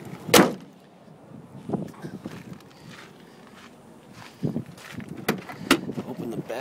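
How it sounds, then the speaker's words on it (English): Back door of a 2003 Ford F350 extended-cab pickup being opened: a sharp latch clunk at the start, then softer handling thumps, rustles and more door clicks nearby, with someone talking intermittently. "Open the back door here."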